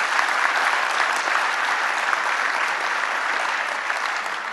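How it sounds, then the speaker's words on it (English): An audience at a 2010 CITT Point/Counterpoint conference applauds in a dense, steady round that holds at full strength for several seconds, fading only slightly toward the end. "A round of applause one more time for those people"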